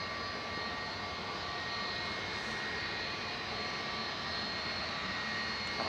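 A Hainan Airlines jet approaches Manchester Airport, its engines a faint, distant, steady whine and rumble that holds evenly throughout without voices.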